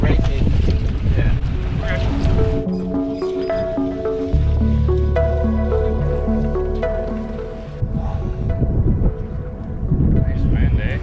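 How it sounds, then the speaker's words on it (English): Steady wind noise on a small sailboat out on warm, flat water, a continuous broadband rush buffeting the microphone, with musical tones and occasional voices layered over it. "Nice wind, eh?"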